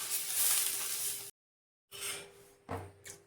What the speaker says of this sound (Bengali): তারপরে একটু জল নিয়ে এর উপরে জলের ছিটা দিয়ে দিলাম।